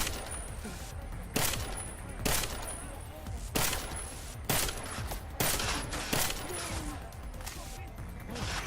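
Gunfire from a weapon in Deus Ex Mankind Divided, a series of sharp, loud shots spaced about a second apart with a noisy background between them, no speech.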